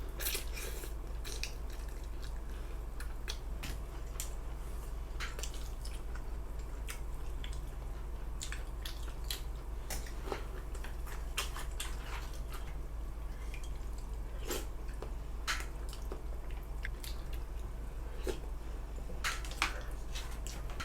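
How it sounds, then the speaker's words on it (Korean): Someone eats samgyetang, Korean ginseng chicken soup, up close, with soft chewing, slurps and small wet clicks and crunches scattered irregularly through a quiet room, with no talking. "삼계탕을 오랜만에 먹는데 국물도 시원하고 닭고기도 잘 발라지고 부드러워서"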